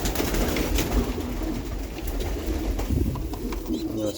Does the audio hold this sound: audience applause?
no